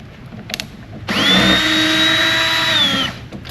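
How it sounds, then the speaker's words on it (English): Power drill with a Phillips head socket backing screws off a Revolution reel mower's side chain cover, giving one steady, close, high-pitched whine of about two seconds that spins up and winds down. "my drill as well as a Phillips head socket on this drill"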